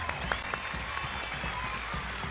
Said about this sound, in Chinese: 让我们一起为自己鼓鼓掌。